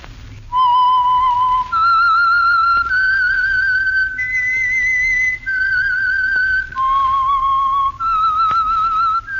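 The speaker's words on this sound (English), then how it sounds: "the signal to listen for is this whistle." Whistled theme signal for a radio mystery show, a clear, close, vibrato-laden melody of about eight sustained notes whistled alone over faint hiss.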